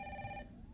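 A landline telephone in the Resident Evil 3 remake rings once with a bright electronic trill that cuts off after under half a second, leaving a low room hum.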